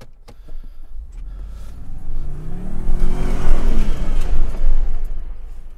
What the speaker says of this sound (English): I'm going to try to knock all the mud off these tires by doing another hard charge